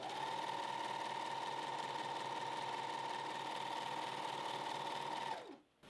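A Janome 1100D serger stitches through two layers of heavy fleece, a steady, loud mechanical whir with a constant motor hum that runs evenly for several seconds, then winds down and stops near the end.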